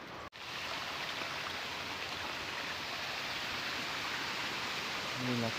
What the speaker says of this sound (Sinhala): මේ ලස්සන දොළ පාරකුත් ගලාගෙන යනවා.